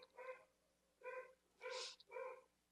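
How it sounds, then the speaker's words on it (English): A puppy gives a few short, high whining yelps indoors in a busy house with other dogs, four separate cries at a steady spacing, faint and somewhat distant with no talking. "I apologize if you can hear the puppy in the background and the other dogs."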